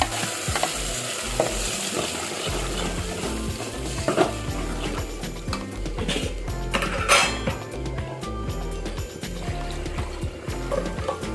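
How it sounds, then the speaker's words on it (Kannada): Ground masala and curry leaves fry in a pan, a steady loud sizzle with a spoon scraping and stirring through it the whole time, close up and with no voice. "ಫ್ರೈ ಆದಮೇಲೆ ಇದಕ್ಕೆ ರುಬ್ಬಿರೋ ಮಸಾಲೆ ಹಾಕ್ತಾಯಿದ್ದೀನಿ"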